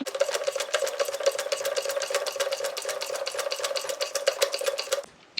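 Hand pump on a hydraulic hose crimper being worked steadily, a fast continuous rhythm of close mechanical clicking and ratcheting strokes for about five seconds, then stopping abruptly.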